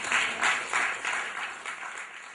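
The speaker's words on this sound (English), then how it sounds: "So let's give a big round of applause to Anne for helping us out" A short burst of audience clapping at a cooking demonstration of tapas and sangria, several soft pulses of hand claps that gradually fade out, with no talking over them.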